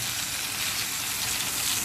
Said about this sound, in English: keeping the hob on with the oil, that's actually frying the outside of them